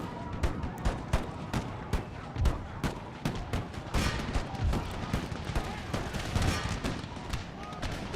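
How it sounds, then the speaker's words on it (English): Rapid, evenly spaced gunshots from Puckle guns in Empire: Total War crack out one after another, a sustained volley of repeated firing at cavalry with loud booms mixed in. "And the puckle guns are already firing on the horse."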